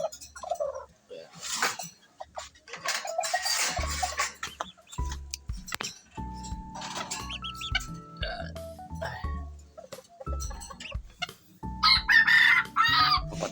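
Small Serama chickens crow and cluck close by in short bursts, a high rooster crow standing out among softer clucks, with someone talking between the calls.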